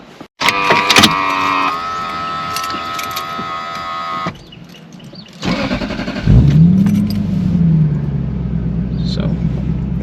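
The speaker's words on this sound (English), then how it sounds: "So we'll let it sit for a little bit and then we will start the car." A Lexus SC430 that has an ABS, TRC and VSC control-unit fault is started close by: chimes and keys jangle first, then the starter cranks and the engine catches and settles into a steady idle.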